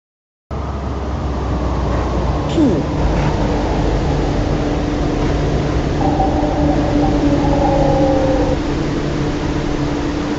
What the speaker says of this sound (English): The train to Yau Ma Tei is arriving.